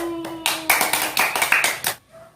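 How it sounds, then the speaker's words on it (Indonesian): A short burst of hand clapping in a classroom, several children clapping together in a quick uneven rhythm for about two seconds, then stopping. "Tepuk tangan untuk Sani."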